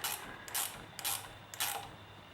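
A ratchet tightening the rear brake assembly on an Amtryke AM-10 trike, three quick back-and-forth bursts of close metallic clicking with short pauses between them, no voices.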